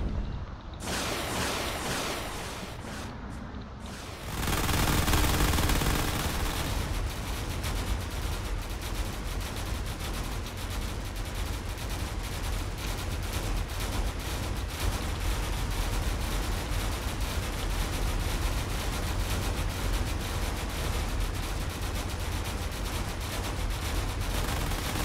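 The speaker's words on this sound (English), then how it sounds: "it's up to those secondary turrets to do whatever they can against these fighters here" Secondary turrets on a ship in a video game firing at incoming fighters, heard as dense, continuous rattling gunfire and explosive bursts, loud and sustained with a heavier blast a few seconds in.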